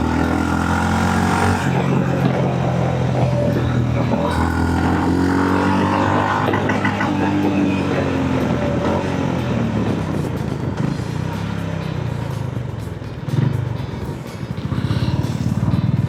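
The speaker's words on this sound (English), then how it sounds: "I never liked redlining any motorcycle, but in this motorcycle I absolutely love it." A Honda H'ness CB350 motorcycle engine revs repeatedly toward redline, the rising and falling engine tone loud and close throughout, with no talking.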